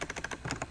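Someone types a quick, faint burst of keystrokes on a computer keyboard, with soft, closely spaced clicks over a quiet background.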